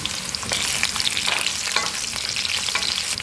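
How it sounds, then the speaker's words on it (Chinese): Spring onion, ginger, dried chilies, Sichuan pepper, star anise and other whole spices crackle and sizzle as they are stir-fried in oil in a clay pot, a loud, dense, continuous frying sound close up. "找个砂锅，锅里倒点油，下入葱姜、干辣椒、花椒、八角、"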